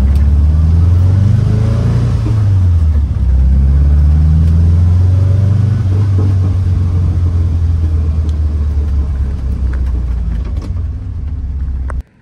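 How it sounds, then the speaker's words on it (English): A 1967 VW Type 3 with a freshly upgraded distributor drives along, its engine droning low and steady with mild rises and dips as it pulls, loud and close, before cutting out abruptly at the end. "The engine is running really smooth."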